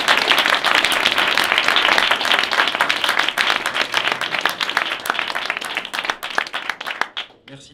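A festival audience claps for a film event in France, a dense, steady wave of applause that holds loud for several seconds, then thins and fades out near the end.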